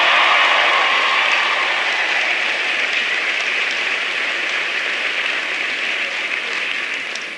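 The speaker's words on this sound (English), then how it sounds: "Give him a big round of applause." An audience at an Ohio town hall gives Sherrod Brown a sustained round of applause, a dense, loud wash of clapping that holds steady for several seconds before easing slightly at the end.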